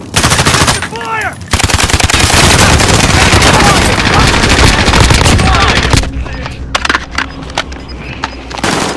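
Bursts of automatic gunfire crack out in a Warzone squad match, dense rapid fire packed close for several seconds before thinning into scattered shots, with players' voices mixed in.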